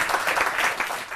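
A crowd applauds a poet at a New Year poetry gathering, dense and continuous clapping that stays loud and even for the whole moment with no voices.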